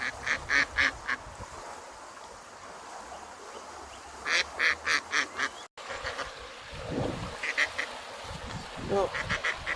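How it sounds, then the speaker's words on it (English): A duck quacks by a river in repeated bursts of loud, close calls, separated by quieter stretches of outdoor background. "there's a quacker just come over to join us"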